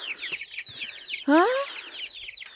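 Young chicks and hens in a backyard coop cheep and cluck continuously at close range, with one loud, rising cluck standing out midway through.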